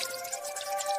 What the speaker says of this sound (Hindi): जादुई पानी खुद बहने लगा।